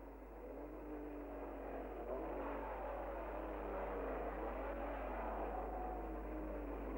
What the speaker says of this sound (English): At the start, Jack Brabham, leading the World Championship by 4 points from Brooks, took the lead as the pack charged towards Waterways Corner